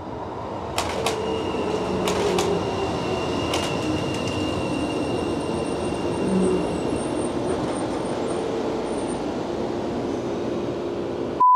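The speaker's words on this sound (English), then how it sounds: "we have another train arriving right now." A train rolls into a station with a steady rumble, high-pitched wheel squeals and brief clanks, ending with a short tone at the close.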